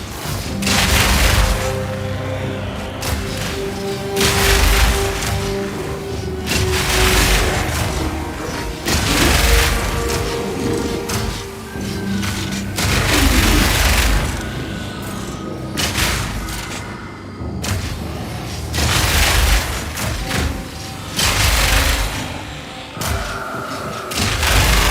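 Repeated grenade blasts from a Mercenary character in Path of Exile 2 land as loud booming thuds in an irregular run, layered over dense game music and effects with no talking.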